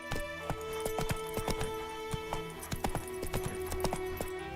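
Roach, the horse in The Witcher 3, gallops with steady rhythmic hoofbeats over a sustained musical drone, close and clear, with no voices.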